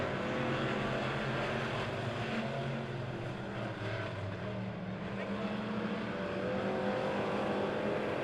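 Dirt-track race cars lapping at Monett Motor Speedway during a feature race, a dense steady engine roar from several cars that continues throughout without letting up.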